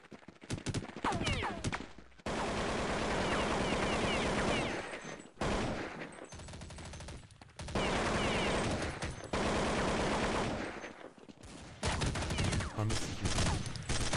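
Gunfire in the Counter-Strike assault map, a 5v5 hostage round: dense, loud bursts of automatic fire with short pauses, near and sustained, with players talking over it.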